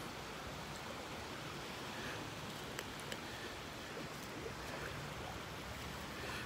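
Waves wash continuously onto a beach in North Naples, Florida, a faint, steady broadband hiss of surf with no voices.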